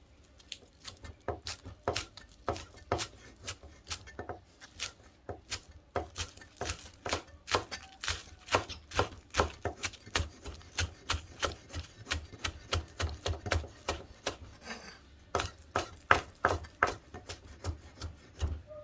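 Rapid, steady knife chopping of spring onions on a cutting board, many sharp wooden taps in quick rhythm, close and clear with no talking.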